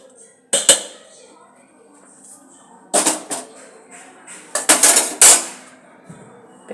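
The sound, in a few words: grinding papaya on a stone slab (sil-pata)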